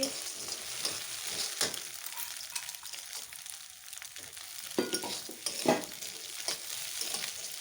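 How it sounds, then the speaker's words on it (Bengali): Maggi noodles fry in a small amount of oil, giving a steady close sizzle with scraping stirs and louder crackling bursts near the middle and end. No one talks. "একদম অল্প তেলে আজকে এটা তৈরি করবো বন্ধুরা। এখন এই দেখো দিয়ে দিচ্ছি ম্যাগি।"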